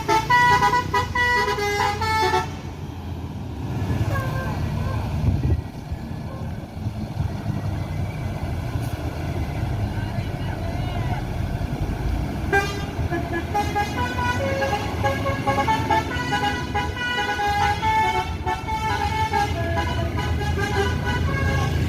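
Red PALALA bus sounding a telolet horn, a musical multi-tone toot repeating over a loud idling engine and road noise, with voices in the background.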